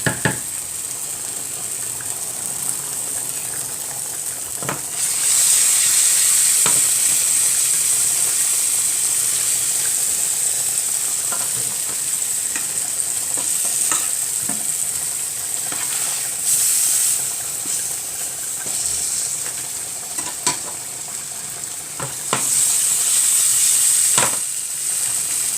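Sweet potatoes frying in a pan give a loud, continuous sizzle up close that swells and eases, with occasional clicks and scrapes of a spoon and no talk.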